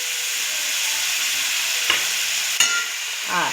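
Chicken curry sizzles steadily in a frying pan, a loud continuous hiss broken by a few sharp scrapes of a spoon stirring through it.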